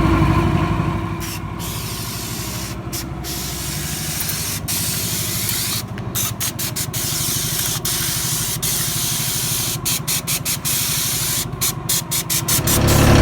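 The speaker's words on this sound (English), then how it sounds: "I'm just going to apply a tack coat spray for better bondage to the top coat" A loud, continuous spray of asphalt tack coat hisses steadily for several seconds over a low engine drone on a driveway repair, with short breaks where the spraying pauses.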